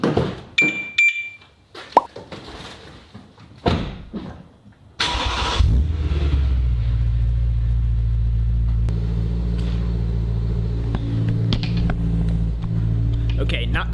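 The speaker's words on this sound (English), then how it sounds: "here's a cold start on a 2013 BMW M3" A 2013 BMW M3 engine cranks and fires with a sharp burst, then settles into a loud, steady close idle rumble, after some clinks and handling noises and brief talk.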